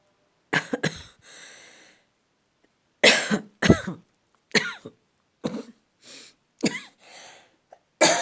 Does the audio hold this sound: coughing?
yes